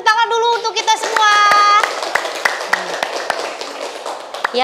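Children in an elementary school classroom clap their hands after a teacher's prompt, sharp individual claps scattered irregularly after some opening voices and a brief sung or chanted tone.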